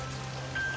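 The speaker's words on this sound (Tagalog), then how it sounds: "Grabe po ang lakasan ng ulan." Heavy rain pours steadily as a dense, even hiss on surfaces, continuous and close with no pauses across the short stretch.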